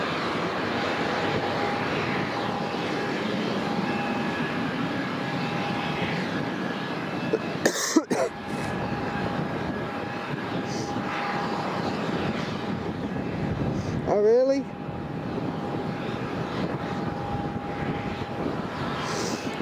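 Airliner engines rumble steadily at Tenerife South Airport, a distant, continuous roar with a faint steady tone, broken by a couple of brief nearby knocks and a cough.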